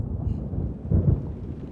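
Rain and rumbling thunder from the video game Xenosaga 2: a steady low wash of rain with one deeper roll of thunder swelling midway, and no speech.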